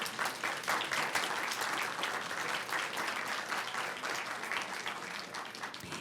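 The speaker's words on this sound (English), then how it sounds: "Let's give her a big round of applause." Audience at a school district board meeting awards ceremony breaks into sustained, even applause, a dense wash of many hands clapping throughout with no talk over it.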